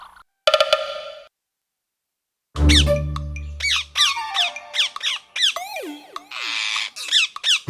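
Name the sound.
cartoon parrots squawking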